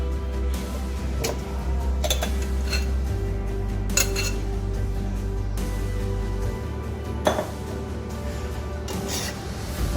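Marinated chicken is stirred into hot tempering in a pot for chicken biryani, with scattered clinks and scrapes of a spoon against the metal over a low steady hum; no one speaks.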